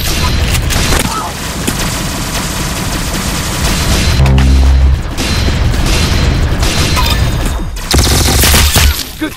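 Gunfire in the online shooter game Roblox Arsenal: loud, dense bursts of booming shots run across the whole stretch, with a heavy, thudding volley near the middle and another toward the end, set within busy game noise.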